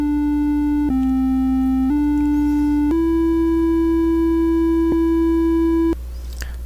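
A Micro:bit simulator plays the school bell melody as plain electronic tones at 60 bpm, six steady one-second notes stepping up and down in pitch, loud and clean, ending abruptly into faint background hiss.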